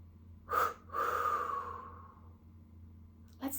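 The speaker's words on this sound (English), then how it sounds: "Let's do one more. Deep breath in." A person draws a sharp, audible breath in, then releases a long, steady exhale that fades over a couple of seconds, followed by the start of another inhale; close and alone against a faint low hum.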